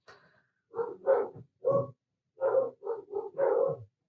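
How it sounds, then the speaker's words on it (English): Several dogs bark in an indoor home setting, a run of loud, close, short barks in two bursts separated by a brief pause, with no talking over them. "And there go my dogs, going crazy again."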